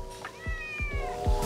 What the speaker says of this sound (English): So we found a stray kitty. Stray kitty was meowing at Lauren,